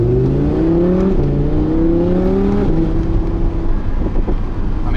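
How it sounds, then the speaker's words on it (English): Audi R8 V10 Plus with a naturally aspirated V10 engine revs up through rising pitch in repeated climbs, heard loud and close from inside the car, with a steady drone underneath. "that V10 just absolutely sings"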